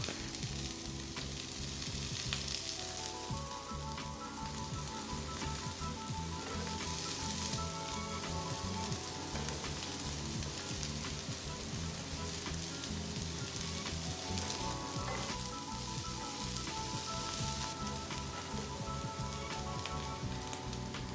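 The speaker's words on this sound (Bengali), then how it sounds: "কেটে রাখা ফুলকপিগুলো দিয়ে দেবো ও খানিকক্ষণ ভেজে নেব" Carrots, beans and cauliflower sizzle and fry steadily in a hot pan, a continuous crackling hiss with occasional stirring scrapes, close and loud throughout.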